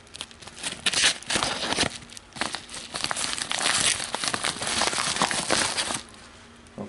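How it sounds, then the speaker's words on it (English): A knife cuts open a shipping package from Bravo Concealment, giving several seconds of close, continuous crinkling, tearing and rustling of packaging. "We'll cut open this package."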